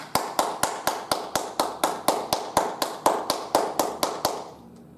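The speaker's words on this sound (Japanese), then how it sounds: "さあ皆さんもご一緒に拍手をしてみましょう" A group claps in unison, about twenty sharp, evenly spaced claps in a steady rhythm, close and clear with no talk, stopping near the end.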